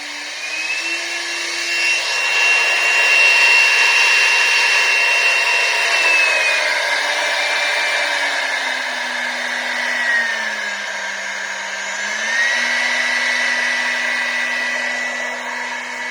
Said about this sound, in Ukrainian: І шпиндель також керується з програми. Вмикаємо, міняємо швидкість.